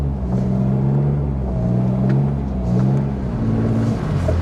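A BMW E36 M3 engine revs up on a snowy road, its low, steady drone rising and falling in pitch as the throttle is tapped, loud and close throughout with no talking.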